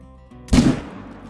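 A single sharp rifle shot at an albino lion in a hunting game, one loud crack that fades quickly into a short rumbling tail after a moment of quiet hum.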